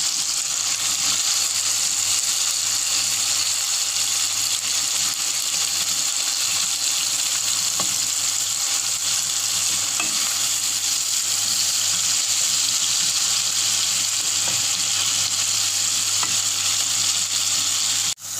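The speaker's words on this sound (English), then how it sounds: "We have given the prawns, we are frying it. We'll shallow fry it" Prawns shallow-fry steadily in hot oil in a pan, a constant bright crackling hiss close by with occasional small pops, no voices.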